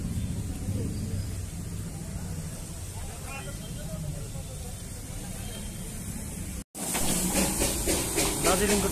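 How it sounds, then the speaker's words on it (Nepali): Steady steam hissing from the Darjeeling toy train at Ghum railway station, a continuous broadband rush close by, with a sudden brief cut and a louder, pulsing hiss afterward. "दार्जिलिंग को टॉय ट्रेन"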